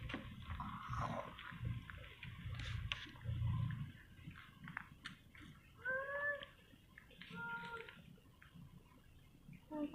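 A pet cat lets out a few short, faint meows among quiet background noise and soft voices nearby.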